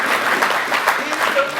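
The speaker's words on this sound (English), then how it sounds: "quick round of applause" An indoor audience gives a brief round of applause, a steady, dense patter of clapping from a fairly large crowd with faint voices mixed in.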